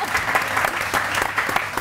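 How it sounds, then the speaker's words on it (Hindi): Studio audience on a morning TV show claps warmly, a close, fairly loud burst of many hands with uneven swells across the short stretch. "समीना के लिए बहुत सारी तालियां।"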